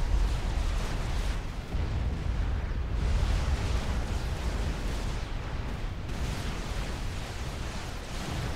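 Rumbling explosions and battle noise fill a Supreme Commander 2 match as a unit detonates, a dense continuous roar of blasts with a few heavier booms and no clear gaps.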